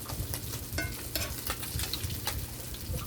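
Oil sizzles and crackles steadily as small herring (sprat) fry in a pan, with sharp pops and spatters scattered through the close, continuous hiss.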